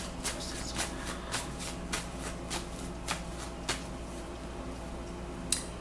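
Tarot cards shuffled and laid out during a reading, with soft papery riffles and several crisp slaps as individual cards are drawn and set down at a steady pace, close and quiet.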